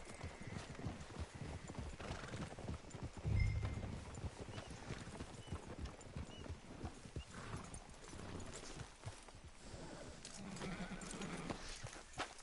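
Horse hooves clop steadily over a busy outdoor soundscape, with a short neigh partway through, in Red Dead Redemption 2; no one speaks.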